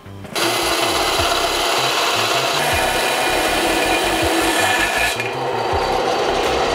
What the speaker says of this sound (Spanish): Entonces hay que quitar estos sobrantes de resina con esta sierra.